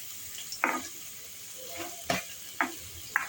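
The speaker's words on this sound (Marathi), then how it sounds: "ते खूप तापलं आहे त्यामध्ये त्याला गाजर घालते" Carrots for carrot halwa go into a very hot pan with ghee, giving a faint sizzle over a steady hiss, with a few short clinks and scrapes scattered through, close and quiet, with no voices.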